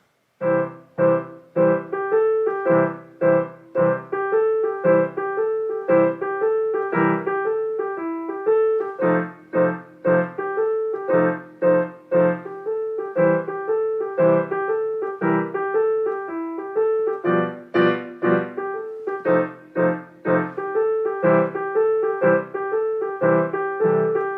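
A solo piano plays a practice song learned in a lesson, with steady, close notes and chords in an even rhythm. The playing runs without pause and without any voices.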